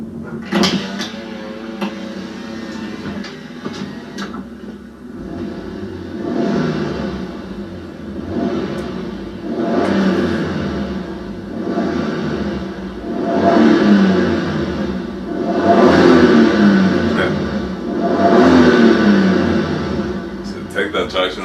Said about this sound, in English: Take that traction off and just burn these wheels out.